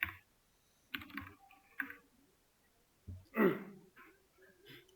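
Bursts of typing on a computer keyboard while code is entered for a web development lesson, short clusters of quick key taps separated by quiet pauses, fairly close and moderately loud.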